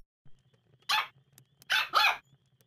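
Puppy barking in the Nintendogs + Cats video game: one short bark, a pause, then two louder close barks in quick succession over a faint low game hum.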